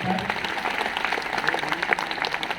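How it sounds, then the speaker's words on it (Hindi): Hearty applause from an audience at a mega seminar in Hazaribagh, a thick continuous patter of many hands clapping throughout, with faint voices mixed in. "जोरदार तालियां आप सबके लिए।"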